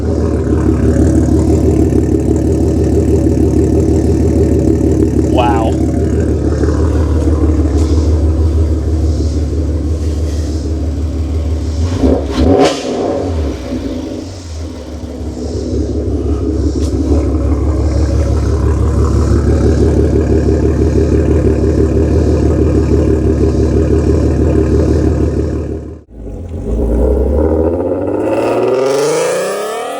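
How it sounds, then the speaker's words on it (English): A loud, deep exhaust from a 3.6L VR6 AWD Volkswagen GTI fitted with long tube headers, rumbling steadily at close range with a brief rev in the middle and a sharp drop before the end. "The exhaust tone of this thing is insane. It is loud."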